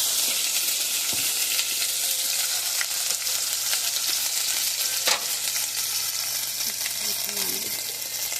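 Garlic paste sizzles steadily in a hot pan for a bean dish, a loud continuous hiss with a few soft stirring scrapes and no talk.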